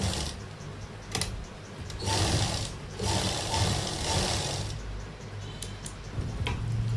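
A sewing machine stitches a seam on a garment neckline, a close rapid mechanical ticking and whirring that runs in bursts with short pauses between.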